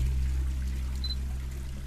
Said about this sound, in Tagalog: Okay, I'm gonna flush the toilet.